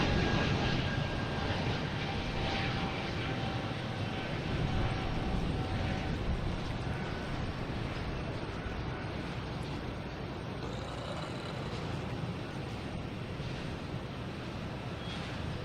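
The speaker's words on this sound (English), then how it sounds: "we have a JetBlue coming in from LaGuardia, an A320." JetBlue Airbus A320 airliner arriving at Boston Logan Airport from LaGuardia, its engines a steady, loud broadband roar that holds throughout with no voices over it.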